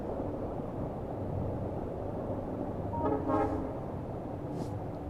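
A train arriving at a station in the video game Factorio, a steady mechanical rumble with a brief cluster of horn-like tones near the middle, set against continuous game background noise, with no talking.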